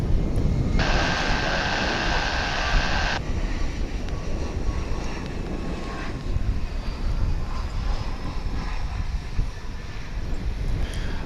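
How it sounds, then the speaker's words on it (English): An airliner arriving on the runway at Dallas/Fort Worth International Airport gives a steady broad engine roar mixed with wind noise on the microphone, sustained and moderately loud throughout, with a brief high tone early on. "This flight's coming in from Aguas Calientes in Old Mexico."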